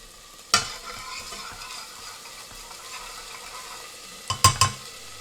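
Garlic and ginger paste frying in a pan, a soft steady sizzle broken by a sharp utensil clatter at the start and a quick cluster of clinks and stirring knocks near the end, no talking.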